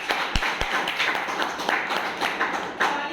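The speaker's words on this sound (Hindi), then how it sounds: "इस रैंक के लिए एक बार जोरदार तालियां" Audience applause at a team business meeting, a broad steady wash of many hands clapping with a couple of sharp close thumps near the start, moderately loud and continuous throughout.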